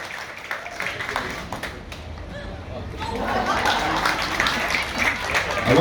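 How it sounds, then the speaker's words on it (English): Applause from a crowd at a university softball game between Hawaii and UCSB for player number 5, steady clapping and chatter that swells louder in the second half, with talk over it. "A round of applause for number 5,"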